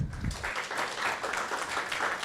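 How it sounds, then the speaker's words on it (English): Sustained crowd applause for a conference presenter, a dense even wash of many hands clapping at a steady level throughout, with no voices standing out. "So shall we give Stephen another round of applause?"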